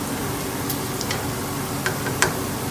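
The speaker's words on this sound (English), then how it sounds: "Just because that rice is cooking quick." Rice frying quickly over raised heat in a hot pan in a Cuban kitchen: a steady, close sizzle with a few faint ticks and crackles, no talking.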